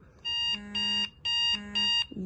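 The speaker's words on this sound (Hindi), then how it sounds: "ये अलार्म कानों में इतना तेज चुभने वाला है" A loud, piercing alarm clock rings in four sustained, shrill electronic bursts separated by short gaps, with no other sound around it.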